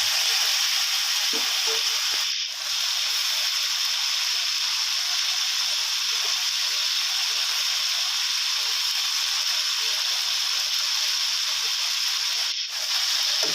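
Steady loud sizzle of banana peppers stir-frying with chicken and roasted chili paste in a hot pan, a continuous frying hiss broken by two brief dips in level.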